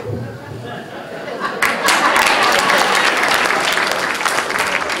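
A live magic and mentalism show audience bursts into loud, sustained applause that swells after a quieter opening with some crowd murmur and continues steadily to the end.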